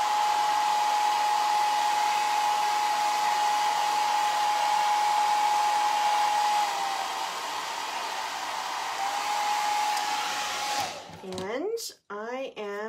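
A hair dryer runs steadily at close range, blowing to dry acrylic paint on small galvanized metal hearts, holding a constant whooshing drone for about eleven seconds before shutting off, followed by brief talking.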